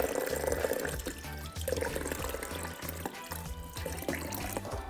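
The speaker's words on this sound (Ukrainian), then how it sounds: "Не забуваємо налити воду перед тим, як ставити квіти." Water pours steadily into a vase made of branches, a continuous splashing, gurgling stream over a faint rhythmic background beat that lasts throughout.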